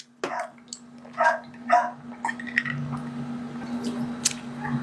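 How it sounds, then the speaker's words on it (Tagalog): A few short barks from male dogs sound nearby, followed by scattered softer yips and squishy noises over a constant low hum. "kaya maingay yung mga lalaking aso"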